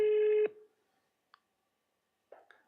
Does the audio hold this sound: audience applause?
no